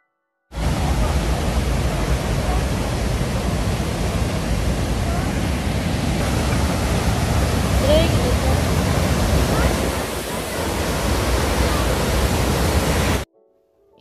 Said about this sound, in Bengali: চলুন এবার ঝর্ণার আরেকটু কাছে যাই।